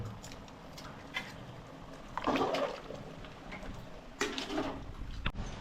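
Water splashes into a pot of country chicken curry in two short pours, close by, over a quiet background hum.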